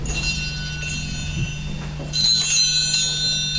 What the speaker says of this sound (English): ringing the bells. This lets the far-reaching spirits know that we would like to speak with them